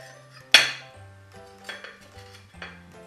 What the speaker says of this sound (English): Take our knife, cut down the center.